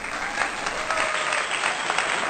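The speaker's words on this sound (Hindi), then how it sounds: "एक बार जोरदार तालियों से स्वागत कीजिए" An audience at a Hindi poetry gathering gives a burst of loud, dense applause welcoming a humorous satirical poet, steady clapping throughout with no speech.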